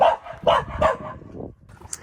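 A small dog barks several times in quick succession, close and loud, then trails off into a brief higher yip amid quiet outdoor surroundings.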